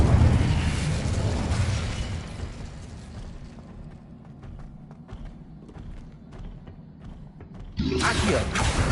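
An Incendio fire spell cast in Hogwarts Legacy, a rushing, rumbling burst of flame that fades into low crackling, then flares loudly again near the end, with a voice calling out over it.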